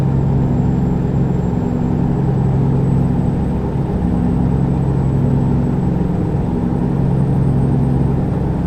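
Steady engine drone of a Kenworth W990 truck cruising in a driving simulator game, a continuous low hum with mild whir holding constant throughout, no talking.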